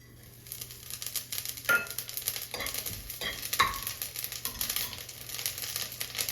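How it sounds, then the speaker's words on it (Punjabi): Cumin seeds sizzle and crackle steadily in hot oil in a pan on a low gas flame, with a few louder pops and scraping stirs, close and moderately loud. "ਤੇਲ ਆਪਣਾ ਗਰਮ ਹੋ ਗਿਆ ਜੀ ਹੁਣ ਆਪਾਂ ਗੈਸ ਦੀ ਫਲੇਮ ਆ ਜਿਹੜੀ ਲੋ ਕਰ ਲਾਂਗੇ ਜੀਰਾ ਪਾ ਦਾਂਗੇ"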